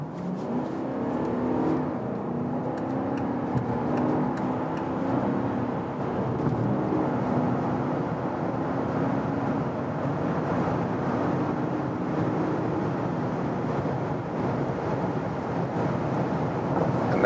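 A 2020 VW Touareg R-Line SUV cruising at high speed on a German road, with a steady, even engine and road roar holding at a constant level from start to finish, no voices.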